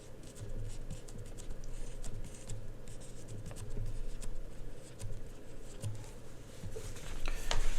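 An eraser scrubs across a classroom board in a brisk, scratchy run of short strokes, fairly close and steady, with no talking.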